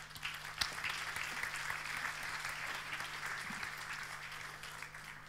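Applause from an audience at a talk on the electric car boom, a steady, moderately dense round of clapping heard at a distance over a low electrical hum.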